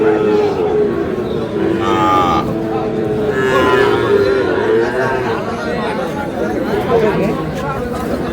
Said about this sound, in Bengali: ষাঁড় বাচ্চা।